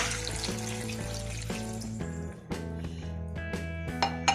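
A glass of water pours steadily into a washed pan for jamun sharbat, a continuous splashing trickle with a faint clink, while music plays in the background.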